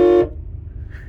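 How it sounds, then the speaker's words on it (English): A General Motors quad tone horn on a 1995 Cadillac Fleetwood Brougham gives one loud, brief, chord-like blast that cuts off quickly, leaving a low engine idle rumbling underneath. "have you ever heard the General Motors, I think it's a quad tone horn?"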